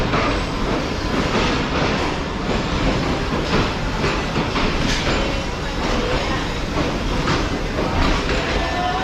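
The Khyber Mail express rolls steadily through a busy Pakistani station platform, a loud continuous rumble of wheels and carriages with faint rhythmic clatter, broad station noise and indistinct voices mixed in.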